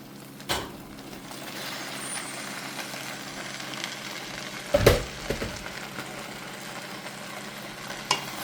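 Boiled rotini pasta being stirred into sauce in a pan: a low, steady background hiss with a few sharp knocks and scrapes of the spoon, close and fairly quiet, with no talking.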